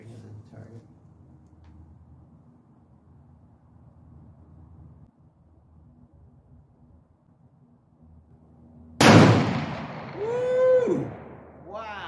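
A quad-barrel shooter goes off at an outdoor range with one loud, sharp blast after a long stretch of quiet background. An excited voice cries out right after the shot.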